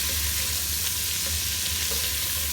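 Garlic and ginger paste fries in a pan for a butter chicken sauce, giving a steady, close sizzle with a low crackling hum throughout and no voices.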